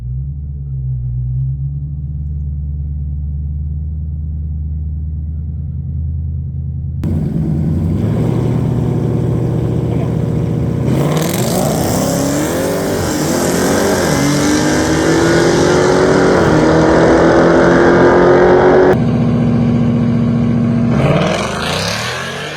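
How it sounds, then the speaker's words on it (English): A nitrous-fed Mustang and a Dodge Challenger Hellcat Redeye drag racing: low idle rumble, then engines swell loud and near as the cars launch, a rising high whine under roaring exhaust before it drops back to idle. "It's a good race."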